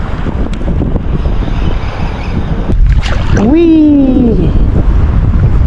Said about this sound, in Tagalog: Mas lalong lumakas yung hangin mga master.